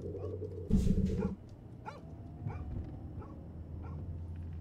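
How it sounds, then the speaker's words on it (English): A dog barks in the horror game Fears to Fathom: Home Alone, with several short, sharp barks and yips spaced through a quiet indoor scene, following one louder thump near the start. "The dog barking scared me, bro."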